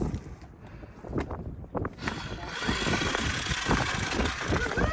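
A jet ski engine idles steadily, its broadband rumble growing louder and fuller after the first couple of seconds, with some faint knocks early on.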